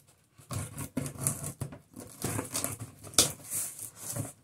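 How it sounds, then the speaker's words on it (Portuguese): A utility knife slices open a large cardboard box from a household shopping haul, giving close, scratchy tearing and scraping strokes in uneven bursts, with no talking. "deixa eu pegar o meu estilete aqui, que eu vou abrir primeiro essa caixa aqui grandinha"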